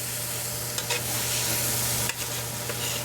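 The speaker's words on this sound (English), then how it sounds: "Stir that up." A spoon stirs a sugar mixture in a bowl, giving a continuous close, gritty swishing with a couple of sharper scrapes, and no one speaks.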